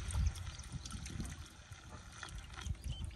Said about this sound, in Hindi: पानी गिरेगा स्प्रे वाला